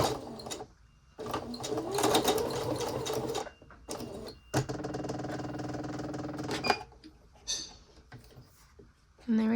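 A sewing machine stitches back and forth on a dress in several runs, a loud close buzzing whir that stops and restarts with short pauses, and brief clicks come between runs.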